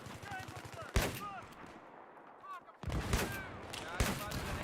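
Rapid automatic gunfire in Battlefield 3 on PS3, sharp bursts of shots around the start and again near the end, with a quieter stretch between and game voices running under the firing.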